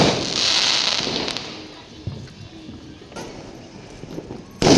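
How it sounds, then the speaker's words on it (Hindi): Firecrackers pop intermittently over steady outdoor noise during a Karva Chauth evening celebration, with scattered sharp cracks and a louder bang near the end. "हर तरफ पटाखे ही पटाखे हैं।"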